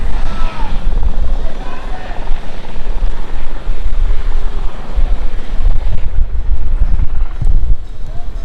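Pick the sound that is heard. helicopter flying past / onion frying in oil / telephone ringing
helicopter flying past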